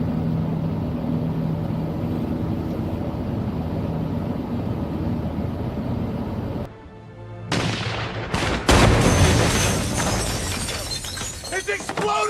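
Explosion in a loud scene, a sudden crashing burst with shattering debris cutting through steady background rumble, followed by continued chaotic noise as voices shout.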